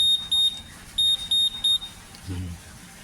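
Shrill electronic beeps from a keyless motorcycle alarm in quick bursts, two sets of three pulses, loud and close, followed by a brief low rumble.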